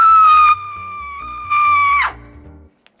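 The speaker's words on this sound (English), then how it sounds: "Everyone out there heard that scream." A woman lets out a loud, close, high-pitched scream, held for about two seconds and swelling again before it breaks off, followed by quiet.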